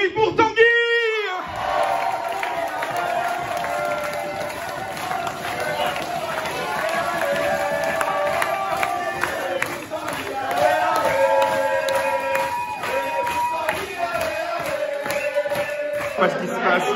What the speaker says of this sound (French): je voudrais un tonnerre d'applaudissements pour le dernier joueur qui va venir rejoindre la bande